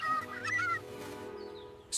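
Small bird giving short high chirping calls over a tonal musical bed in a back garden, with a brighter call burst at the end.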